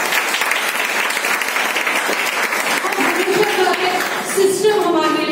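An audience at a seminar applauds in a sustained wash of clapping, with a voice speaking over it toward the end.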